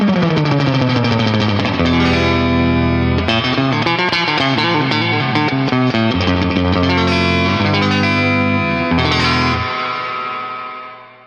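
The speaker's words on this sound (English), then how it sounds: "Here's a spring reverb used for an exaggerated effect." Electric guitar played through a reverb pedal set to an exaggerated spring reverb, chords and notes ringing with a loud, wet, splashy tail that lingers and decays at the end, no talk.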